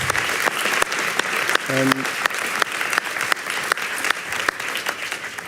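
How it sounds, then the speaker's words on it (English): An audience at a talk on whether a river is alive breaks into a warm round of applause, steady dense clapping that fills the room, with a voice speaking over it. "a warm round of applause"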